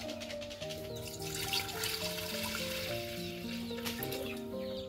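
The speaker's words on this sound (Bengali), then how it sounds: "হাঁড়িতে দিয়ে দেবো পানি" Water trickles and pours into a cooking pot set on a clay stove, ready for steaming caramel pudding; a steady, close splashing stream runs throughout while chickens cluck in the background.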